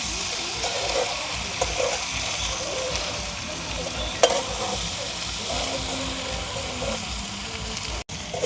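Dried fish and onions are stirred and fried in a pan, a continuous close sizzle with scraping stirs throughout and no voices.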